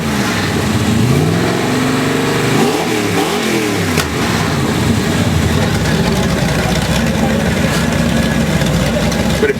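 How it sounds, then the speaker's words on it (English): Car engine fitted with a Thrush two-chambered welded muffler revs hard on a dyno, a loud continuous roar with rising and falling sweeps, close and sustained throughout. "if you want to make that stock engine sound pretty wicked, try our Thrush 2-chambered welded"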